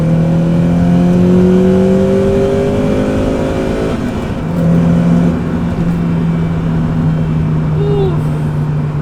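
Honda CL7/CL9 with a Hondata reflash pulling hard at full throttle in third gear from about 4,000 rpm, a steady rising engine drone heard from inside the cabin, loud and continuous for the whole stretch.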